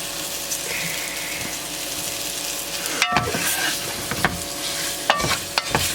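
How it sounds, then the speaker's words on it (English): Meat browning in a hot pan for a hunter's stew gives a steady, close sizzle, with occasional sharper clicks and scrapes from stirring or turning the pieces. "I think I got my pan hot enough today for you guys too, so we can get some browning action going on here"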